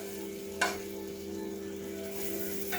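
Bacon and tomato fry in a pan with a steady, even sizzle and a low background hum, marked by a couple of brief scraping stirs.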